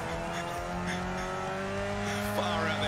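Racing video game car with engine droning and tires squealing, a steady loud mix of motor noise throughout with a brief sharper squeal near the end.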